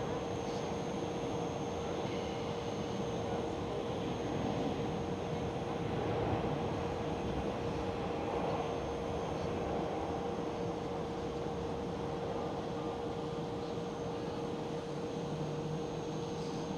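A Singapore Airlines Airbus A350 passes at Schiphol as a long, even engine drone with a faint steady whine on top, moderately distant and unbroken, with no one speaking.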